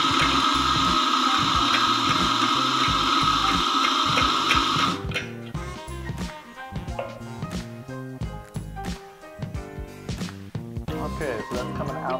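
A burr coffee grinder at a café grinds an 18-gram dose of espresso beans with a loud, steady whir for about five seconds, then stops and gives way to quieter clinking and handling.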